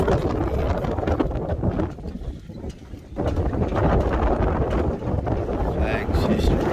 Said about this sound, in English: It's still getting like 40 miles an hour gusts.